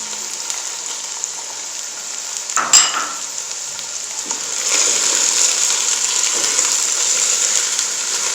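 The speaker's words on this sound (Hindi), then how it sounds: "अब इसमें गाजरें ऐड करेंगे और टाइम बचाने की खातिर इसमें साथ ही मटर भी ऐड कर देंगे" Carrots and peas stir-frying in a pan for Chinese rice, a steady hiss of sizzling with a brief clatter of stirring midway, the frying growing louder and fuller afterward, close and without talk.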